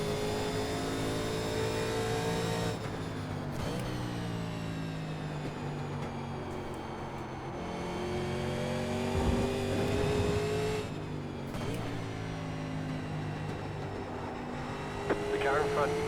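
Engines of NASCAR race cars from the 1987 season in the iRacing game at Watkins Glen, a loud steady droning roar with shifting pitch as cars pass, continuous throughout with a voice talking over it.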